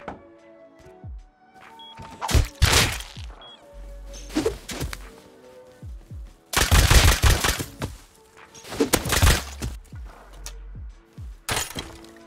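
Gunfire in the Rust survival video game, with several loud bursts of shots and sharp impacts spread across the clip, separated by quieter gaps.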